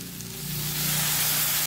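Yellowfin tuna pieces drop into a hot pan of sautéed aromatics, setting off a loud, close hiss of sizzling that swells and holds before cutting off abruptly.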